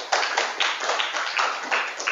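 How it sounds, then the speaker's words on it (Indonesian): Applause breaks out in a classroom as students clap together, a dense, steady patter of many hands close by that carries through the whole moment without fading. "Tepuk tangan dulu."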